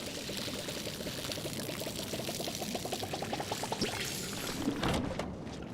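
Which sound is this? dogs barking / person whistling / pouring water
pouring water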